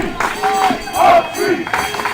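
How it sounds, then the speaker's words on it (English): Swiss spectators shout and cheer at a canoe polo match during the European Championships, a loud, echoing crowd roar with rising yells filling the short stretch. "Now we have the Swiss crowd really shouting, trying to encourage the team to score and defend well"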